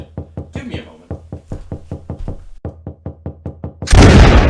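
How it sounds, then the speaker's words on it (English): Rapid, loud knocking on a front door, around twenty sharp raps in quick bursts with a brief pause, followed by a loud burst of noise. "Is that you knocking on my front door right now?"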